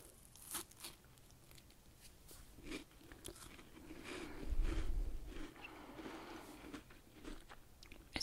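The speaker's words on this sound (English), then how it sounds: "It's a good crunch." A crunchy British biscuit being bitten and chewed close to the microphone, with repeated crisp crunches and crumbly chewing that swell in the middle, without talk.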